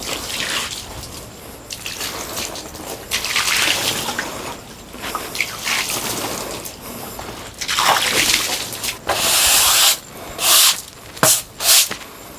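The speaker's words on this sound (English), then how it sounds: "Let's lay some of the best ones out and put some water on them." Water is poured and splashed over freshly milled wild cherry boards in irregular bursts, with sloshing and dripping between louder gushes, close by and without talking.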